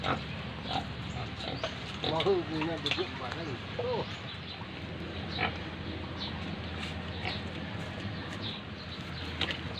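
A black pig grunts on a farm in a low-lying rice-growing area, with a few short oinks and snorts mixed into outdoor background noise, while people talk nearby.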